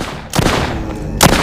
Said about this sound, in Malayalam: ഓ ഒന്ന് വെടി വെക്കണം അങ്ങോട്ട്